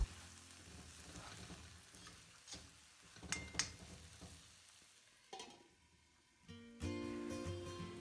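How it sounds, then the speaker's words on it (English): Paneer cubes being stirred slowly into mushrooms in a hot pan, giving a soft sizzle with scraping and light knocks of the spoon, closer and louder toward the end. "Mix the paneer slowly without breaking it."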